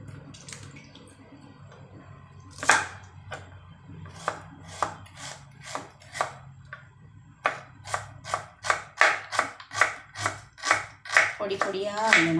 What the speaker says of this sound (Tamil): இனி அதை நம்ம பொடி பொடியாக அரிஞ்சிடலாம்.